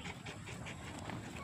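A dog pants in quick, soft, rhythmic breaths close by, with faint voices and household noise behind it.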